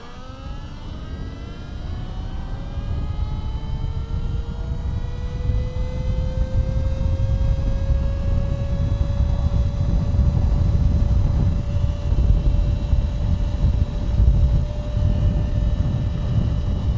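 Surron Ultra Bee R electric motorbike accelerating hard on a 100 km/h road stretch during a top speed test, a steady rising motor whine climbing in pitch over broad road and wind noise, loud and continuous.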